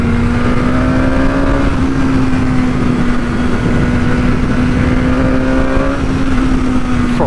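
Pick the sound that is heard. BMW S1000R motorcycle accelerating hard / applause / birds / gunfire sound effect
BMW S1000R motorcycle accelerating hard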